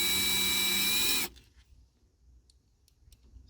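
A power drill tightens a bolt on an RV door lock on a Thor Majestic motorhome, whirring loudly and steadily for about a second before stopping abruptly, followed by quiet handling clicks.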